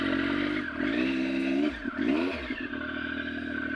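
A touring motorcycle engine warming up on the Blue Ridge Parkway idles close by, a steady throbbing hum with a couple of brief revs and dips.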